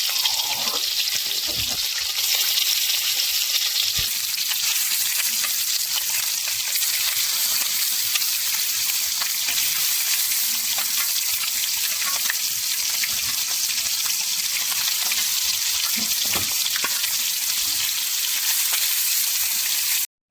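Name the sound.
river fish frying in a pan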